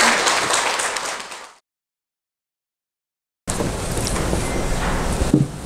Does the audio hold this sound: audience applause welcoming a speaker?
yes